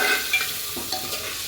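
Peanuts, peas and green chillies roast in hot oil for masale bhaat, a soft sizzle under light stirring scrapes in a pan, close and fairly quiet, with no talking.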